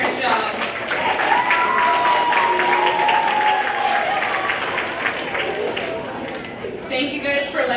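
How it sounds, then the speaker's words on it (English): Audience applause at a school theatre awards ceremony, a sustained wash of many hands clapping steadily, loud and close, with a few cheers and a whistle rising over the crowd before it begins to thin. "So clap for your parents' job."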